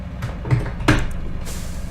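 Air brake on a heavy M3KT 742910 truck in SpinTires: MudRunner: a low engine rumble, a sharp thump, then a bright burst of hissing air that carries on to the end.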